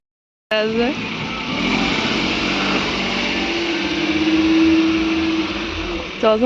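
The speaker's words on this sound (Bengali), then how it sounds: "বাইক আসছে" A motorbike engine drones steadily nearby after a brief silence, holding a humming tone that grows slightly louder as it approaches.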